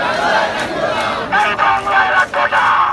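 Crowd of protesters chanting slogans in front of the main gate of Dhaka's city hall, demanding Ishraque Hossain's swearing-in, loud massed voices rising and falling in rhythmic bursts, close and continuous.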